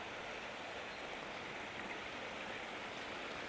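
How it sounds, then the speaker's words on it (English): Waterfall in Kings Park, Perth, a steady broadband rush of falling water heard at moderate distance, continuous and even with no breaks. "Here's another part of that waterfall, guys, over here."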